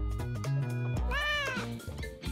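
A kitten lets out a loud, close, drawn-out meow whose pitch rises and then falls, preceded and followed by shorter tonal sounds, with no talking.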